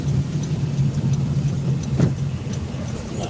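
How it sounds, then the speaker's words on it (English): A truck drives past on a snowy road in the Texas Panhandle, its steady mid-range engine hum rising slightly as it passes close by, with no talk over it. "Nice truck."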